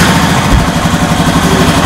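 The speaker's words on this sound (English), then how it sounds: "you need to start your bike" Honda Rancher ATV engine fitted with a snorkel, running at a steady close idle with a loud, even low rumble and a rhythmic throb throughout.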